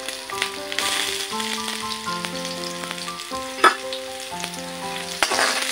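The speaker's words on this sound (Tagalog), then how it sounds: "Kaya gigisa ko na lang. Ayan na. Lagyan na natin ang bawang. And then yung sibuyas." Garlic and then onion sauté in a pan for dinengdeng, a steady sizzle and stirring beneath melodic background music, with a couple of sharp utensil knocks and no voices.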